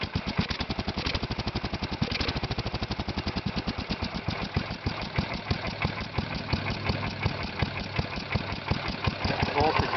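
A Kohler Magnum 16 hp engine on a Bolens 1256 garden tractor runs steadily at idle, with a close, even rapid firing pulse throughout and a talking voice over it.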